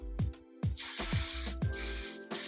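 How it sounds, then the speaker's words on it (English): Close-up aerosol hairspray hissing in two long sprays, separated by brief gaps, with soft thumps between bursts. "take some hairspray and just spray the edges"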